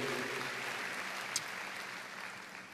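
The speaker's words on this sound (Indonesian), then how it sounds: "Beri tepuk tangan yang meriah buat Tuhan." Congregation applauding during a church service, a continuous, fairly distant wash of clapping that holds steady and fades slightly toward the end.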